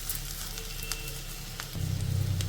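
Spices tipped into onions and potato frying in a pan: a quiet, steady sizzle that swells into a louder, deeper frying hiss near the end, with no voices.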